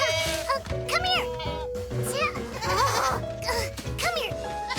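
Cartoon goats bleating in quick, wavering calls over lively background music, with a voice and laughter mixed in.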